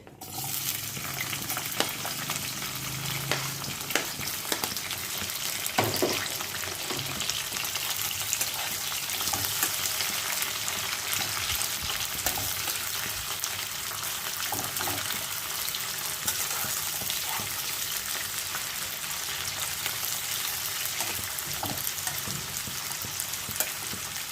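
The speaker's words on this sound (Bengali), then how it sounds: "পেঁয়াজটা একটু লাল লাল করে ভাজা হোক" Onions fry in a pan with sugar, browning for a Bengali pumpkin and raw mango dish, making a steady, close sizzle with frequent stirring and scraping throughout.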